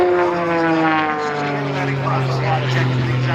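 An RC airplane engine at the Boundary Bay air show in 2022 gives a steady, loud, droning buzz with a slowly falling pitch as the model passes.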